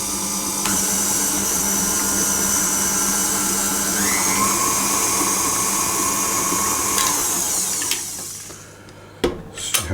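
An electric mixer creams eggs and vanilla extract in a bowl for coconut cupcake batter, whirring steadily up close for several seconds before cutting off, followed by a few brief clatters.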